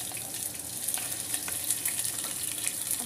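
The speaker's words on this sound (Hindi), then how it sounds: "तेल हल्का सा गर्म होते मैं इसमें ये जो लहसुन काट करके रखी थी उसको ऐड कर दूँगी" Chopped garlic frying in hot oil makes a bright, continuous hiss and sizzle close up, with faint pops scattered through it.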